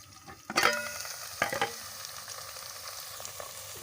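Okra fries in oil in a pan, with a soft, hissing sizzle and a few sharp stirring scrapes near the start and middle, fairly quiet and close, no voices.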